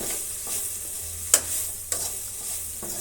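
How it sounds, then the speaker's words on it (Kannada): Crushed garlic tossed into a pan of frying ladies finger (okra): steady sizzling with a few sharp clinks and scrapes of stirring, close and alone. "ಬೆಳ್ಳುಳ್ಳಿ ಜಜ್ಜಿರೋದನ್ನು ಸ್ವಲ್ಪ ಹಾಕೋಣ"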